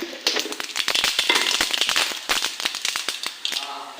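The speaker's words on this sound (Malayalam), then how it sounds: "എണ്ണ ചൂടായാലും നമ്മൾ കടുകിട്ട് പൊട്ടി പോകുന്നു" Mustard seeds crackle and pop in hot oil on a home stove while jackfruit is being prepared, a rapid run of sharp, close snaps and taps filling the whole stretch with no one talking.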